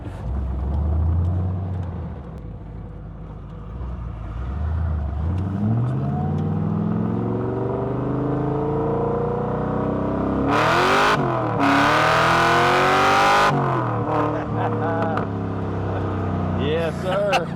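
A small, mean-sounding car's engine idles low, then revs and pulls hard through rising sweeps, with bursts of wind noise, heard from inside the car while people talk over it.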